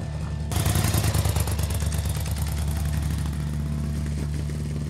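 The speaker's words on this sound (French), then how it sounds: "Sortir la moto pour la première fois et la faire rouler" A custom-built motorcycle with a freshly built engine starts up and runs for the first time, a loud, rough mid-pitched engine drone with clattering pulses that settles into a steady hum.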